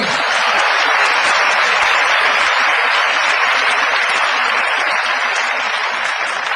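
Lecture-hall audience at a university talk breaks into loud, dense applause, a continuous roar of many hands clapping close and even, sustained without a pause.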